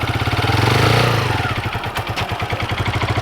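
Motorcycle engine close by as a beginner rider moves off, a loud throbbing rev that eases into a pulsing idle-like chug.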